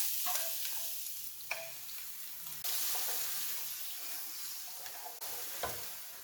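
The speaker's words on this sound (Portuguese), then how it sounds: "Agora que a gente vai refogar essa cebola" Crushed onion sautés in soybean oil in a large frying pan, a soft, even sizzle with a few sharp clicks and scrapes of stirring, fairly quiet and without speech.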